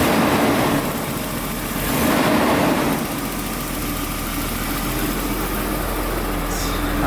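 A car engine runs at idle, recorded up close in the engine bay: a loud, steady rumble with broadband mechanical noise and a brief swell in intensity around the middle, no talking.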